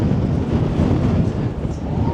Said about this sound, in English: Can you tell the wind's blowing me?